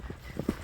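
A white horse's hooves clip-clop in a short run of about four dull, evenly spaced strikes, moderately close and with no voices over them.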